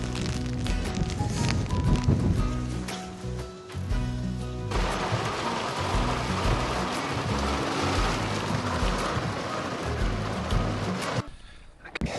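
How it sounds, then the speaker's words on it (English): Heavy rain pouring beside the River Frome, a dense continuous hiss with patter and some low rumbling, loud and close throughout before a brief drop near the end. "at the moment it's pouring with rain"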